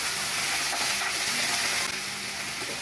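Steady, loud sizzling of frozen chicken frying in hot oil with onion and bell pepper, a dense broadband crackle with faint stirring clatter underneath and no voices.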